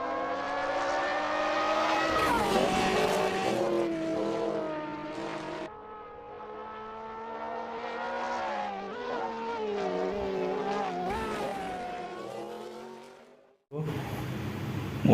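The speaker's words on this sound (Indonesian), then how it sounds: "Mobil balap." Toy-like race car sound with a harmonic engine whine that climbs and dips through revs for most of the run, close and loud, then a short pause and a brief noisy burst at the end.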